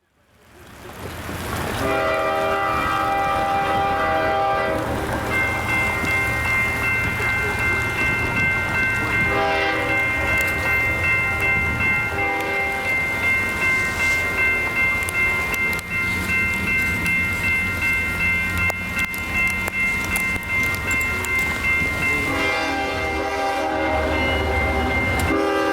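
A train reaches a railroad crossing during a sudden downpour, its horn sounding loud and sustained in long blasts while the rumble and clatter of the passing cars continue underneath.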